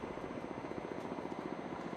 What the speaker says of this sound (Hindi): बाईं तरफ से मंच के सामने आ रहा है अगला हेलीकॉप्टर कामोव 31